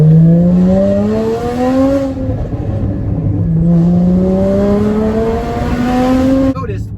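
A car engine running on E85 fuel revs hard under throttle, its pitch climbing steadily in two long pulls with a brief lift between, loud and close from inside the car.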